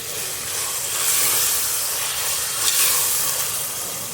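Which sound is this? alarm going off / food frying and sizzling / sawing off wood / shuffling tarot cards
food frying and sizzling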